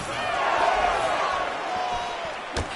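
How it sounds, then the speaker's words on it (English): A video game arena crowd in UFC 5 roars steadily in reaction to a punch landed in a women's fight, with a sharp thud of impact near the end. "that punch elicited a reaction from the crowd"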